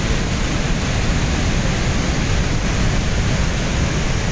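Water pours through a crest gate of the Bhadra dam in a loud, steady roar of rushing, churning flow, unbroken and close, with no voices heard.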